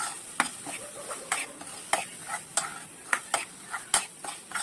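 Pav bhaji masala and chilli powder stirred in a pan, a spoon scraping and knocking against the metal in irregular strokes over a faint sizzle, close and moderately quiet with no voices.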